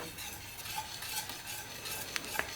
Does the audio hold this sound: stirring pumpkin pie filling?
yes